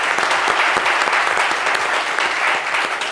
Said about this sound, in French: Allez, applaudissements pour Abomey l'éléphant, s'il vous plaît.